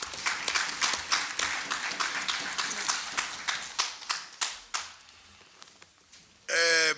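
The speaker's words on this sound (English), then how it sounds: "We clap for the 2 presenters" Members of the Pan-African Parliament give a scattered round of applause, individual claps distinct and uneven, thinning out toward the end before a voice starts speaking.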